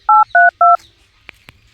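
A telephone number is being dialed: three short, loud keypad tones in quick succession, followed by two faint clicks.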